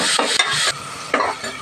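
A salted mixture with tomato being stirred in a pan, two bursts of close, bright scraping and sizzling separated by a brief quieter pause.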